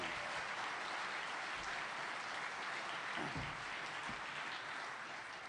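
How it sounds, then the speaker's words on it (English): Sustained applause from a large audience at a speaking event in Delaware fills the whole stretch: dense, steady clapping at an even level, with no other sound standing out. "Ladies and gentlemen, please, another round of applause for Anirban Basu."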